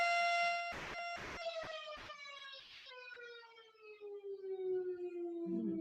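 A long, wailing siren tone slowly descends in pitch, punctuated early by a few sharp thumps, steady and fairly prominent throughout.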